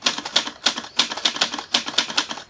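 Typewriter keys struck in quick bursts of clacks, with brief pauses between groups, crisp and close with no voices.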